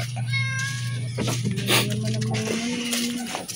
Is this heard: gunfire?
no